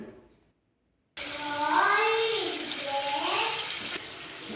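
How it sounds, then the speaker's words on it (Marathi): Running water splashes steadily from a tap over frozen peas being rinsed for a few seconds after a brief quiet start, moderately loud and close, with no talking. "हे फ्रोझन मटर आहे याला स्वच्छ पाण्याने धुवून घेते"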